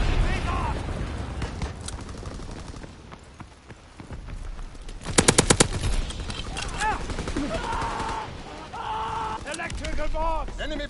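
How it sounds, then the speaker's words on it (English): Call of Duty video game combat, with bursts of gunfire, a rapid volley of shots and booming explosions, and voices calling out over the noise. "Incendiary bombs incoming!"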